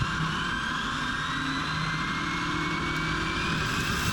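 A HoBao RC car runs at full speed outdoors, its high-pitched electric motor whine holding steady and continuous over a faint background hum, with no voices.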